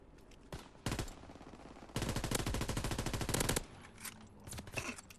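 Automatic gunfire in a video game shooter: a couple of single shots, then a long rapid stream of shots at a steady rhythm that stops abruptly, loud and close over quiet game ambience.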